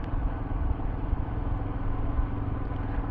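Royal Enfield Himalayan motorcycle engine idling while warming up, a steady low thumping rumble at moderate loudness, close by and alone.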